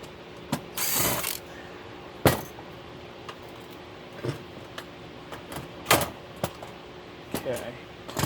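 Screws and standoffs are worked loose from the steel chassis of an Enterasys 72-port network switch during a teardown, giving scattered sharp metallic clicks and ratcheting taps with quiet gaps between them and low background hiss.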